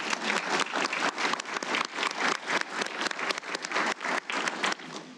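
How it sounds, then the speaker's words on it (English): An audience claps at a military retirement ceremony for a chief, honoring the bell ringer and piper; dense, continuous applause, close and fairly loud, holding steady for several seconds before tapering slightly. "let's give those folks all a round of applause"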